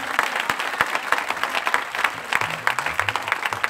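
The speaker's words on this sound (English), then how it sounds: "You are not clapping unto God." A church congregation claps together, a dense run of sharp hand claps that swells and continues throughout, with faint voices beneath.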